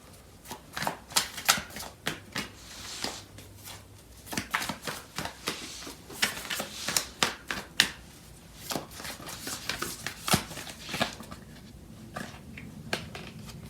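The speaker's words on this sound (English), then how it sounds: "I'm going to pull out more cards." Tarot cards shuffled and drawn from a deck, a rapid run of crisp riffling snaps and slides heard up close, with no talking.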